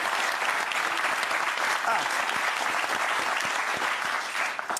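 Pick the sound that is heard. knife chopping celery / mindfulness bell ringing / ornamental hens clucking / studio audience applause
studio audience applause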